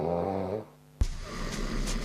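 A person sleeping through a night on a vibrating air-cushion anti-snoring pillow snores; a long harmonic snore fades, a short silence follows, then a sharp snort starts a rough, breathy stretch close to the mic.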